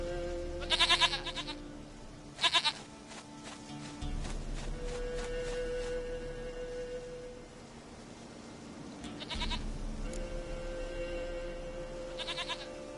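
Goat bleating in The Witcher 3 video game, several short wavering bleats in bursts over a steady ambient game backdrop and music, fairly close and moderately loud, with no talking.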